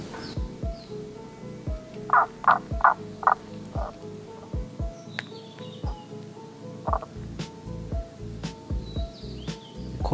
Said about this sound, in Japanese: はい、カエルが鳴いてますね。